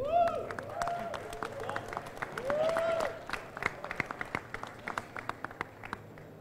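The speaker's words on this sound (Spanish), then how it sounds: "Denle un fuerte aplauso a René Pons" An audience at a science hackathon final applauding a guest, René Pons, with scattered sharp claps that thin out into individual hand claps, while a voice speaks over the start.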